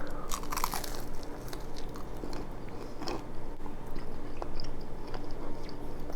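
Close-up crunching as someone bites into and chews crispy keto chicken nuggets, a series of sharp crackly bites followed by moist chewing, intimate and fairly quiet with no talking.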